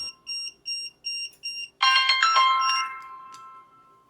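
Five short electronic beeps in a steady rhythm, then a louder burst of harsh, buzzing electronic tones that fades out.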